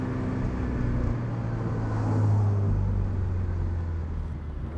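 A Cadillac CT4-V with a 10-speed automatic downshifts, its engine note rising and falling through several gear changes, loud and close from inside the car.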